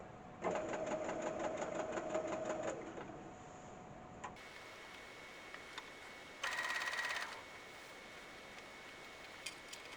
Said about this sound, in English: And then just carry on sewing it round like we did for the other top.